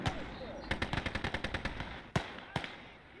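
Rapid machine-gun bursts from the WWII strategy game Gates of Hell, fired during a tank battle: a fast run of about a dozen sharp shots, then two louder single cracks, with distant rumble underneath.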